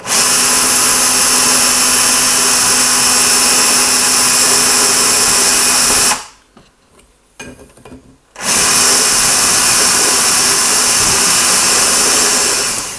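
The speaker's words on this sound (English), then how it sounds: "Just hold the drill on and then hold the big file against it." A loud, steady whirring grind of a big file pressed against an e-cigarette part spinning in a drill, cutting out abruptly for about two seconds before resuming.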